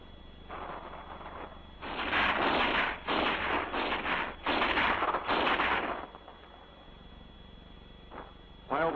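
A rifle squad fire team pours out a base of fire to pin down the enemy: repeated bursts of loud gunfire in clustered volleys, distant and harsh, over a few seconds before pausing.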